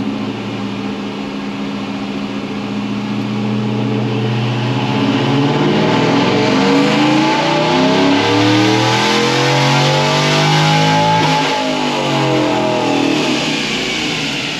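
A 500-horsepower Chevrolet Tahoe engine on a dyno pull, revving from a steady drone up through a long rising sweep as the RPM climbs, loud and close, then easing back.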